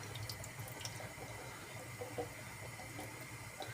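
Water pours steadily from soaked beans being strained in a kitchen, a faint continuous trickle and splash with no talking.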